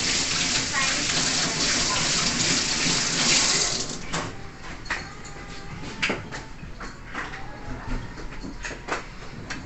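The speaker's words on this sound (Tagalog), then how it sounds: "Tapos lalagyan ko lang ng konting maligam-gam na tubig." Lukewarm water pours steadily with a gushing splash for about four seconds, then stops, leaving scattered small clinks and handling noises; a person talks softly throughout.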